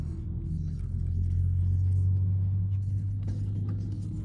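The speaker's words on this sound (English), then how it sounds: "It's the thick drone of a car with an engine that sounds like it has a bigger engine than a 4-cylinder." Volkswagen Golf GTI with the EA888 Gen 3 engine and an aftermarket sports exhaust, droning with a deep steady low hum that swells slightly in the middle, close and moderately loud, with no talk over it.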